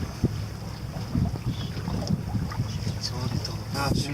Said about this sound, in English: Tourist boat.